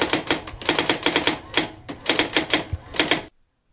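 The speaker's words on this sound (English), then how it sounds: "Now let's preview our TypeWriter effect complete with its soundtrack." Typewriter keys clack in quick bursts of strikes with short pauses, crisp and close, then cut off abruptly to silence near the end.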